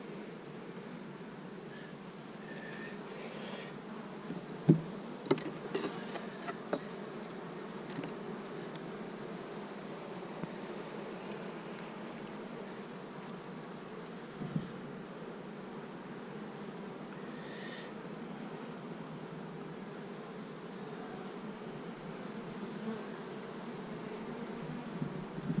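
Honey bees buzz in a continuous low drone around an open hive colony as foragers bring in pollen in summer heat, with a few brief sharp clicks and knocks near the hive.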